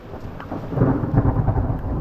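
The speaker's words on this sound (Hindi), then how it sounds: "तूफ़ान इतना तेज़ी से हवा चल रही है कि अब धमाका सुनना जो होगा।" Deep rumbling thunder with strong wind and rain in a storm, a low roll that swells louder through the middle and holds steady, with no voices.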